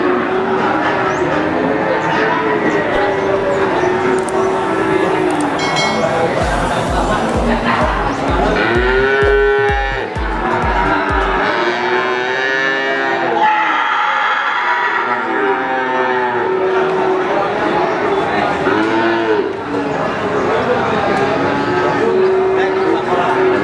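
Cattle, including Limousin stock, moo repeatedly at the Wage cattle market in Pati, with long, loud, overlapping calls from several animals over a busy crowd murmur and a brief low rhythmic thumping partway through.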